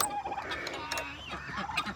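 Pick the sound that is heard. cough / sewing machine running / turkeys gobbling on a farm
turkeys gobbling on a farm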